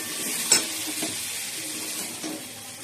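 Spices sautéing in a kadai for khichdi, with a soft sizzle, a few stirring scrapes and clinks spaced through it, and no one talking.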